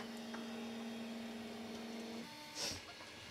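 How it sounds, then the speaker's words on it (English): A handmade 3D printer runs with a steady mechanical whine and motor hum, then changes tone partway through, with a short brighter burst near the end. "this is what it's going to print out on the printer surface"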